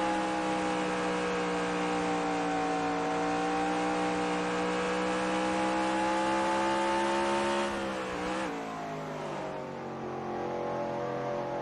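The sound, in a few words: race car engine on board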